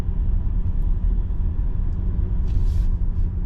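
A Mercedes EQS electric car coasts at the speed limit with light regenerative braking, giving a steady close road and tyre rumble inside the cabin with no engine note and no talk.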